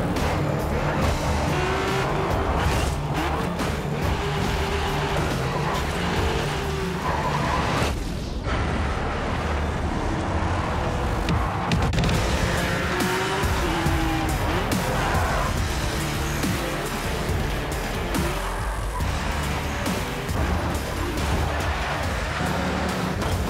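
Race cars roar through the racing game Grid 2, engines revving and shifting continuously with tire squeals and skids, a dense, loud run of motor noise throughout.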